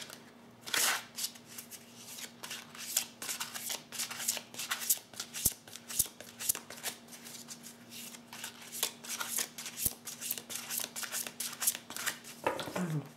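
Tarot cards are shuffled and dealt into piles nearby: quick papery riffles and crisp flicks come in a busy, uneven run with small taps between them, and a voice is faintly present.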